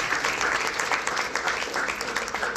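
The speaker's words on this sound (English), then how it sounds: "How about giving those who prepared our evening a round of applause?" Audience at a community iftar gathering in Whitby gives a round of applause for the people who prepared the evening, a continuous crowd clapping that holds steady for the whole stretch.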